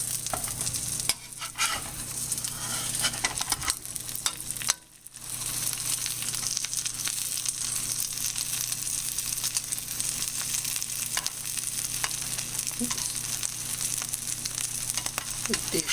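A chicken omelet sizzles steadily in a frying pan, a loud continuous hiss with a brief dip as it is flipped, then the frying carries on without talking.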